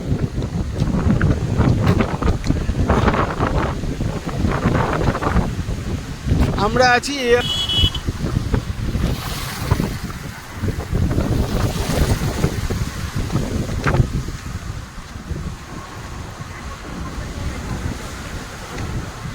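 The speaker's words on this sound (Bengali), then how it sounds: "তোলপাড় হয়ে যাচ্ছে জল" Rough, churning sea waves and strong wind at Old Digha roar continuously, with heavy wind buffeting on the microphone, while someone speaks over the surf.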